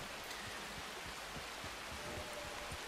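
Rain falling in Red Dead Redemption 2, a soft, steady hiss of dense droplets with faint low patters, quiet and even, with no voices.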